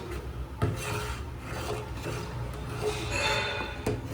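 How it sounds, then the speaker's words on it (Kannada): A spoon stirs rasam powder into boiling tamarind water, scraping repeatedly against the pot in close, rasping strokes. "ಚೆನ್ನಾಗಿ ಮಿಕ್ಸ್ ಮಾಡ್ಕೊಳ್ಳೋಣ."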